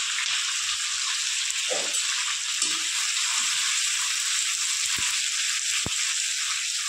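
A constant, bright sizzle of whole garam masala, dried red chillies, cumin seeds and bay leaves frying in hot oil, with a few soft clinks and rattles from the pan, close by and uninterrupted.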